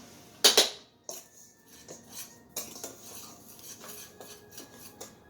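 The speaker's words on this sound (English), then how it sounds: "now that we got the dry ingredients in there, we're going to go ahead and mix them up" Dry cake ingredients for a mesquite cake being mixed in a bowl, with a sharp utensil clink at the start followed by a run of scraping, rubbing strokes against the bowl, close and moderately loud.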